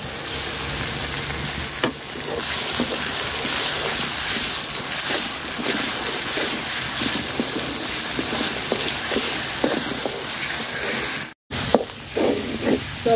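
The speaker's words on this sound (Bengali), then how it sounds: "তো মশলাটা সুন্দর করে ভাজা নিছি।" Ground spice paste and onions frying in a pan for a Bogura-style chicken and potato curry, a loud, steady close sizzle with soft stirring scrapes throughout and a brief cut near the end.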